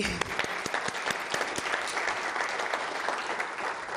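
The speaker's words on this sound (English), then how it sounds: "let's give her a round of applause anyway." Audience applause at a writers award ceremony, a continuous patter of many hands clapping for the whole stretch, fairly close and even.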